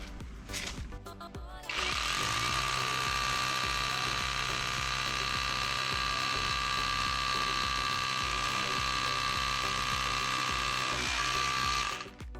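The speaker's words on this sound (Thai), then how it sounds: "ในการเจาะหนึ่งรู ขนาด 8 มิลแบบเจาะได้แบบง่ายๆ ด้วย สว่านโอสุกะตัวนี้ครับผม" An OSUKA cordless rotary hammer drills a hole with an 8 mm bit, 15 cm long, all the way down: a loud, steady, rapid hammering rattle with a whining motor that runs continuously for about ten seconds before stopping.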